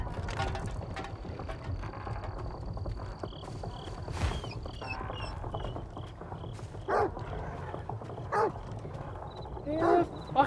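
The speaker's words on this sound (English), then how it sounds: "Where the fuck is this dog? I can hear him underground, I can hear him here." Dogs barking in the Stalker 2 video game, a few sharp barks late on over game mechanisms, gear ratchets and a low ambient rumble.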